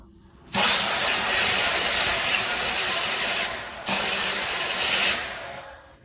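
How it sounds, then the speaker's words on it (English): An airless paint sprayer gun sprays rinse water into a bucket in two long, loud hissing bursts, with a brief pause between them. "Continue to pull the trigger and rinse until the spray gun flows clear liquid."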